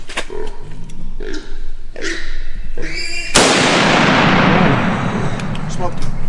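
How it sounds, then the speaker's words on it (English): Gunshot during a hog hunt: a single loud, sharp rifle-style blast about midway, following several short voiced shouts and leaving a long noisy decay. "Good shooting, Kannon."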